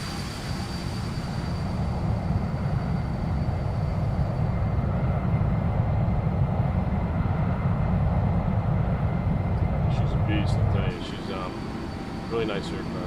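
Simulated Boeing C-17 Globemaster III jet engines drone steadily as the aircraft climbs out of Dubai in X-Plane 11, with a broad low roar that drops slightly near the end and someone talking over it.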